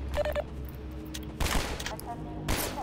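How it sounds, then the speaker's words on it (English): Gunfire bursts in Half-Life 2, with a short volley at the start followed by two louder, sharper clusters of shots spaced about a second apart over a low game ambience. "Where am I getting shot from?"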